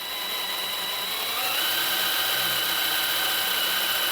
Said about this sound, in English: I've got my drill set up with a priming tool.